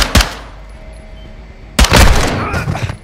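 Gunfire in Call of Duty: Modern Warfare 2 (2022): a sharp, loud shot cracks near the start, then after a quiet gap a dense burst of rapid automatic fire rattles close by for over a second.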